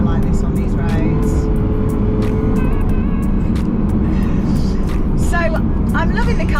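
A Lamborghini sports car's engine drones loudly and steadily from inside the cabin while driving on bumpy country roads, with a constant low rumble and occasional sharper clicks and squeaks over it.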